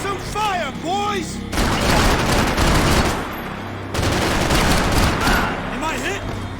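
Sustained bursts of heavy gunfire and rapid automatic fire in the video game Max Payne 3, loud and dense, with a voice shouting during the opening second before the shooting takes over.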